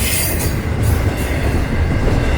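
Florida East Coast Railway freight train rolling past close by, a loud continuous rumble of wheels and cars with a faint squeal, no voices.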